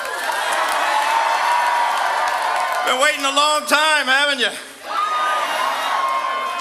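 An election night crowd cheers and whoops in a big, steady roar, with someone speaking over the noise partway through before the cheering swells again.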